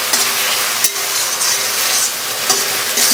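Spices fry in hot oil in a pan for a tilapia and brinjal curry, giving a steady, close, fairly loud sizzle with a few stirring scrapes and no talking.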